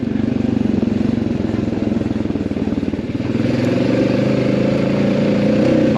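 A motorcycle fitted with a K&N air filter rumbles steadily while riding, with a loud, close engine drone and a shift in pitch partway through.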